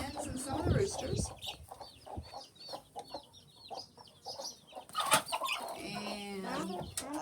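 Chickens, hens and roosters, cluck and chirp steadily nearby on a farm, with peeping chicks and occasional louder squawks, a voice briefly talking underneath.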